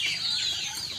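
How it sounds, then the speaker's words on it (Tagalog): Bantam chickens cluck steadily at close range in a farm range enclosure, a continuous busy flock chatter with no pauses and no voices over it. "Bantam nga manok."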